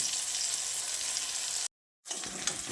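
Flat beans (sheem) frying in a pan as a ground poppy seed, sesame and green chilli paste is added and stirred in, a steady close hiss broken by a brief silence, then sizzling resumes with soft scraping.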